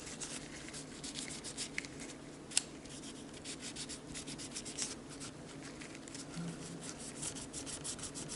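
Airsoft pistol parts from a Tokyo Marui M&P9 being wiped with alcohol to remove old grease and oil, a soft continuous rubbing and scrubbing close by, with one sharp tap partway through and no talking.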